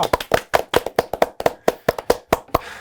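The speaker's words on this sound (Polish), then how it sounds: "no brawa!" Studio applause greeting the director and co-writer of the Polish TV series "Lalka": sharp, separate hand claps in a quick, uneven rhythm, fairly close and clear, with no talking over them.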